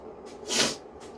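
Someone with a mild cold gives a single short, breathy sniffle up close, a quick nasal hiss that rises and fades within half a second.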